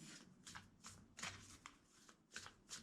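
Tarot cards are shuffled in quick, soft riffling bursts, about eight short flicks in an uneven rhythm, close but very quiet.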